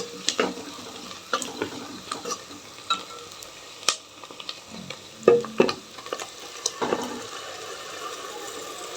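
Tomato gravy frying in oil in a pan, stirred with a spoon; a sizzle runs under sharp scraping and clinking strokes that come in uneven bursts, close and fairly quiet.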